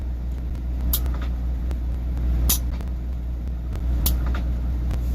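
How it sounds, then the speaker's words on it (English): Inside the cab of a manual-transmission truck during shifting, short bursts of air hiss and clicks from an air solenoid come about three times over a constant low engine rumble. "you can hear something like a solenoid or something"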